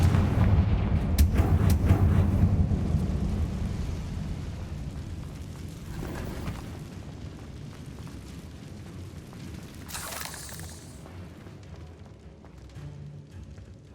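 A Confringo fire spell bursts in Hogwarts Legacy, a heavy booming blast up front that rolls off into a long, fading rumble with a brief crackling flare partway through.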